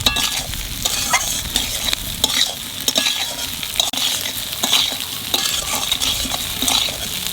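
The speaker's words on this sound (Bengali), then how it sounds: "ডাল আর কচু ভাজা হয়ে গেছে" Lentils and taro fry in a pan with a steady sizzle, while a utensil stirs and scrapes through them with regular strokes, close and moderately loud, with no talking.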